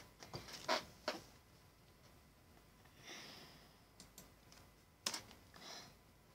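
Sparse clicks from typing on a computer keyboard, a few quiet keystroke bursts separated by pauses, faint against low background noise.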